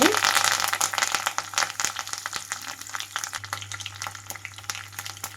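Cumin, mustard seeds and curry leaves fry in hot oil with a loud crackling sizzle that starts strong and eases off, with scattered popping over a steady hiss.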